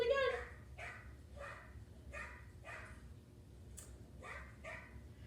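A puppy yaps repeatedly in a steady series of sharp, high barks, fairly close, against a low background hum.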